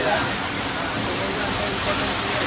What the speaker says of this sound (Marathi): अब ऊपर आए तो बारिश होने लगी.